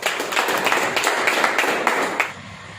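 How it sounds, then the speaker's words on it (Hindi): A seminar audience gives a loud round of applause in honour of new members, with dense, steady clapping that stops abruptly near the end. "आप लोग सम्मान में एक जोरदार ताली।"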